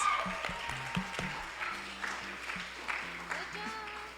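Applause at a youth competition awards event, moderate crowd clapping over a background of low musical notes, with a few louder claps standing out and a continuous even level.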